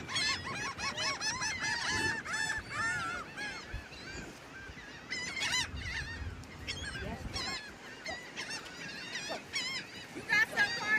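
Seagulls crowd in noisily while being fed bread, their harsh squawks and honking cries overlapping and repeating throughout, close and loud, with people talking intermittently underneath.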